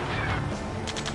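Gunfire in the Ace Combat 7 video game sounds as a dense, steady burst of rapid shots over a loud combat din, with a quick run of distinct cracks near the end.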